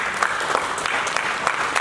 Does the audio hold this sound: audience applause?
yes